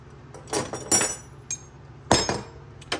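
Metal hand tools, including Craftsman wrenches, screwdrivers and an Allen key, clink and clatter as they are picked up and set down, giving a handful of sharp, close metallic knocks separated by short pauses.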